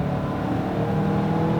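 A 2019 Mazda CX-5 Signature turbo SUV engine pulls hard under acceleration from inside the cabin, a steady, dense drone with no talk over it.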